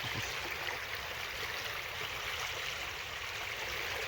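A strong river current rushes continuously in a broad, steady hiss of flowing water, moderately quiet and even throughout with no voices.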